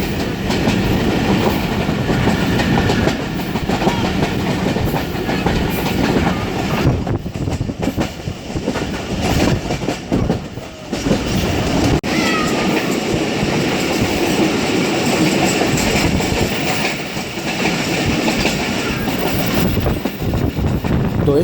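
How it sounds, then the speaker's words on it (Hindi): The Allama Iqbal Express, an old grilled carriage train, rolls into Raiwind Junction with loud, continuous rumble and rattling clickety-clack of wheels on track, heard from inside the car. "हमारी ट्रेन पहुंच रही है रायवन जंक्शन रेलवे स्टेशन पर"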